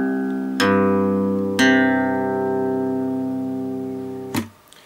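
Acoustic guitar in drop C tuning, with only the top three strings lowered to C, strummed three times. Each chord rings out full and close, and the last is cut short.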